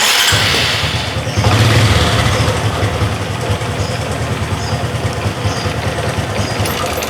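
A Honda Supra X underbone motorcycle engine turns over and catches, then settles into a steady, close idle with a loud, even low putter that runs alone to the end.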